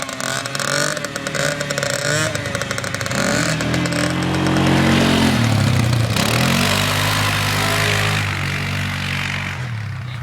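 Dirt bike engine running loud and close for the whole stretch, its pitch rising and falling with uneven revs, dropping in the middle and climbing again as someone struggles to keep it running.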